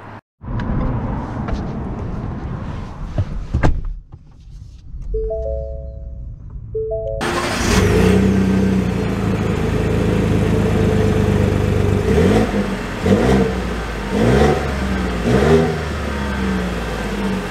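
A 2022 Ford F-150 with the 2.7 EcoBoost engine starts after a short quiet stretch of faint noise and brief tones. It settles into a loud, close run with several revs rising and falling.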